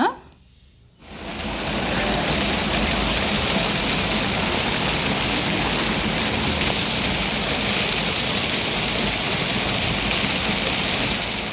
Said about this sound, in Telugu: ఇక్కడ చూడండి వర్షం అయితే ఎంత గట్టి కురుస్తుందో, అసలు చాలా గట్టిగానే వస్తుందండి